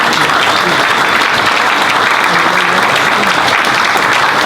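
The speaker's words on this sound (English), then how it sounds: "But let's have another round of applause." A loud, continuous round of applause fills a lecture room at a science talk, with many hands clapping densely and a few voices blending into the crowd noise.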